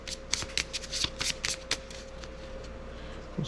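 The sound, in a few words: shuffling playing cards for a tabletop game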